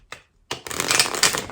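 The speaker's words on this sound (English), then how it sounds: "what a weird shuffle." A quick riffle of tarot cards, a short flutter then a longer dense burst of papery clicking, close and fairly loud with no talking.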